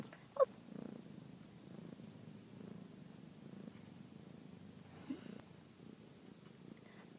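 A fuzzy house cat purrs steadily and softly at close range, a low continuous rumble with a couple of brief louder bumps, and no talking over it.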